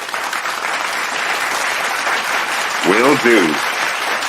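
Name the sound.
audience round of applause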